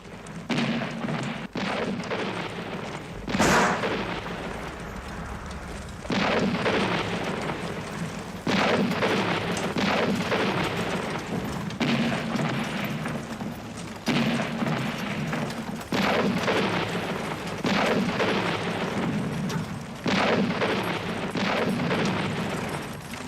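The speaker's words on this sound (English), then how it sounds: "Those deep booms, that's the heavy artillery." Heavy artillery fires in deep, repeated booms during a World War I trench scene, the broadband blasts landing every few seconds over a steady rumbling battlefield bed, loud and sustained with no speech.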